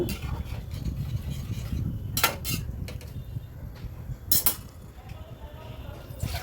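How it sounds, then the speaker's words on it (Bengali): A spoon stirs dal (lentils) with hot water in a small bowl, scraping and clinking against the sides in a few sharp bursts over a low steady background hum. "দিয়ে এবারে সব কিছু ভালো করে জলের সাথে মিশিয়ে নিচ্ছি।"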